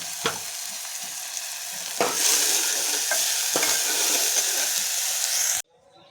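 Onion curry with pigeon pea pods being stirred in a pan, steady sizzling hiss broken by a few scraping strokes of the spoon, cut off abruptly near the end.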